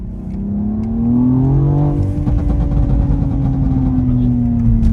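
A BMW X4 M engine revs loudly and holds a deep, throaty drone through a rumbling Akrapovic exhaust, with a faint voice underneath.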